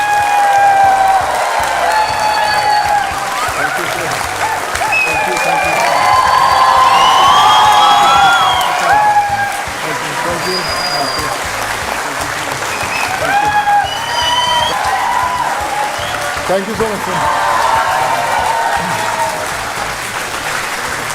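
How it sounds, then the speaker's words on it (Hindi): A studio audience at the Aap Ki Adalat TV courtroom show applauds loudly and cheers with whoops for Sonu Sood, a sustained close wall of clapping that swells and eases, with someone briefly speaking over it. "तो ये तालियां बजती रहें।"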